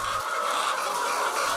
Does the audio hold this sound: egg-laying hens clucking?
yes